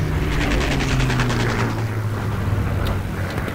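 A bomber aircraft's engines in the Call of Duty WW2 video game give a steady, loud droning rumble throughout, with a deep pulsing low hum and a faint higher whine riding on top.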